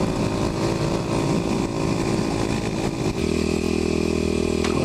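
A Kawasaki KLX250SF supermoto motorcycle ridden offroad during an ATV poker run, its single-cylinder engine droning loud and close under steady throttle, then shifting to a lower, smoother pitch near the end amid wind rush.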